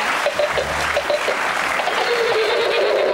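An alarm clock plays a whinnying horse call, a steady, slightly tinny neigh that runs continuously at close range with no talking.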